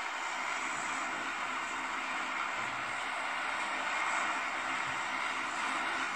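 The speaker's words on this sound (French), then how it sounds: "Allez, c'est bon, l'avion décolle." Airplane engine roaring steadily during takeoff in a mobile video game, played at full volume through stereo phone speakers on a Vivo iQOO Z1; a constant broadband drone with no break and no talking.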